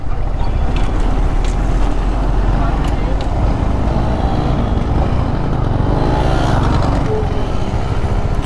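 A Yamaha R15 motorcycle with a radiator issue: steady engine drone buried in loud, constant wind roar while riding, with a muffled voice faintly underneath throughout.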